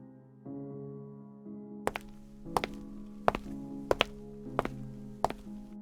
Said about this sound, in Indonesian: Bunyi alas sepatu yang berbenturan dengan lantai keramik memecah suasana hening.